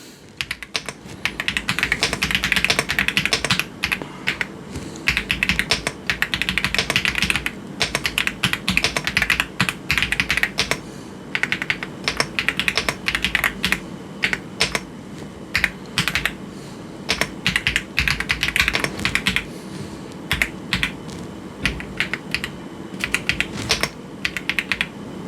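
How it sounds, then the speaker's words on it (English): Rapid typing on a cheap AliExpress gaming keyboard, loud close clicks of keys in fast bursts with short pauses between runs, steady throughout. "Now let's get some actual typing testing on this and see how it performs."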